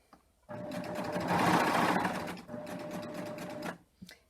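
A serger sewing machine stitches a sample line at 2 millimetre stitch length, a loud steady mechanical whir that speeds up briefly, pauses, then continues before stopping.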